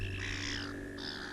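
Seagulls squawking in agitation at a magpie that stole their food, giving two harsh, fairly faint cries from a short distance outdoors with no talk.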